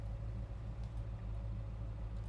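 A 1966 Chevrolet Chevelle Malibu with a 383 V8 idling steadily, a deep, even low rumble close by with no talking.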